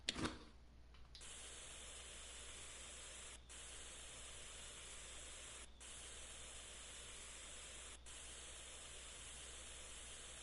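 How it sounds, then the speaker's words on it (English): Sanding a KV-2 tank in Tank Mechanic Simulator: a steady, faint hissing abrasive noise that runs evenly throughout, with a short burst at the start and a few tiny dropouts. "Looks like I'm on to sanding."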